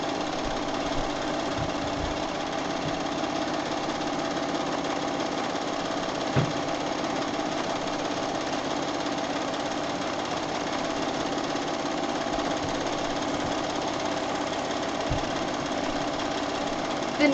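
A sewing machine stitches free motion quilting through a quilt with batting, giving a steady, continuous mechanical whir and hum that runs unbroken throughout, with a few faint knocks scattered in.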